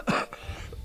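A single short chesty cough or throat-clearing burst from a man who is ill, close and fairly loud, followed by a brief quieter rasp.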